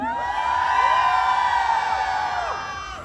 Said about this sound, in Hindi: वो जोर से चिल्लाइए जिन्हें लग रहा है कि हमारी खुशी जी दीपिका से कम नहीं लग रही